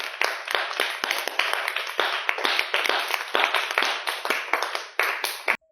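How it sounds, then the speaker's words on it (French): Children clap for themselves at a church gathering, a dense burst of quick, overlapping hand claps that keeps up steadily for several seconds before stopping abruptly. "Applaudissez pour vous-même."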